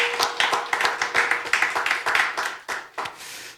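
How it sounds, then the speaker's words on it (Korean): A church congregation claps in unison during a Sunday worship service, steady rhythmic hand claps in a loud sustained run that thins out toward the end. "박수로 영광 돌립니다."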